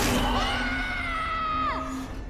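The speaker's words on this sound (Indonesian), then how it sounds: "Yusuf dan Marisa lari menghampiri suara teriakan anak mereka itu" A child screams as a sound effect in a narrated horror story, loud and sustained for about two seconds, with the pitch rising and then dropping.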